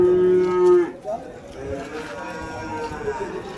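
A native-breed heifer at an open cattle market in Vaniyambadi gives one loud, close moo lasting about a second, then a fainter low call follows amid market chatter and background crowd noise.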